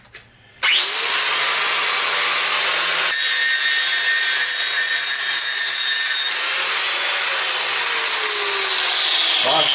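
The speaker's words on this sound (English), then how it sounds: "these are an angle grinder. They're designed to be operated on an angle" Angle grinder cutting into a metal wing bracket for an R33 GTS-T: a harsh, loud, steady high-pitched grind that starts abruptly and runs continuously, with a brief dip partway and a slight fall in pitch near the end.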